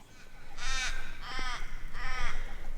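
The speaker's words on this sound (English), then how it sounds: "While the magpies are laughing at me, you might hear them in the background." Magpies calling in a grassy park, three harsh chattering caws at moderate distance over faint outdoor background noise.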